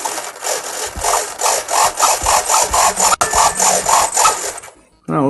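RC model servos in a Syncro aircraft build buzz and grind in a fast, rhythmic series of about a dozen pulses, close and fairly loud, then stop abruptly.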